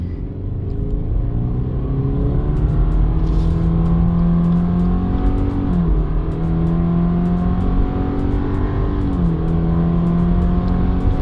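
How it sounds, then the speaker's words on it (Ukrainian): A 2023 Subaru Forester Limited with a naturally aspirated 2.5 engine and automatic transmission accelerates uphill in sport mode, its engine drone rising steadily in pitch with two smooth shift dips, loud and steady from inside the cabin. "А тепер вмикаємо спорт режим. Тут у нас Intelligence і спорт. І стартуємо ми в горку."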